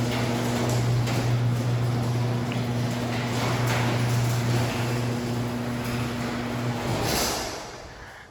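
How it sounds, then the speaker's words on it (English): A garage door opener lowering a spring-tensioned garage door, with a steady droning motor hum and rolling rumble that runs continuously for about seven seconds before the motor stops. "I press this button, and the garage door starts coming down."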